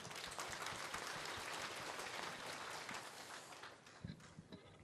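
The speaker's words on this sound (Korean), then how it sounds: "큰 박수로 환영해 주시길 바랍니다" Faint applause from a memorial ceremony audience welcoming a lawmaker to the podium, a soft, dense clatter of hands that thins out near the end, leaving a few scattered claps and knocks.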